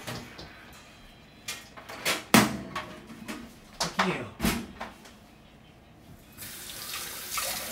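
Tap water runs in bursts into a sink as an item is washed by hand, with splashes and clatter rising and falling, and a steady hiss of flow building near the end.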